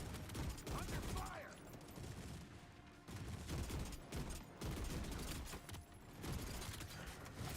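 Sustained, loud gunfire in a Gears of War E-Day multiplayer match, dense rattling volleys with rhythmic bursts and brief pauses running continuously, with faint voices under the shooting.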